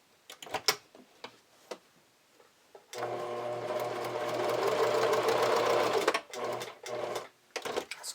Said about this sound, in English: I'm going to run 2 lines of straight stitching, just one along the upper edge of this fold over elastic and then another along the bottom edge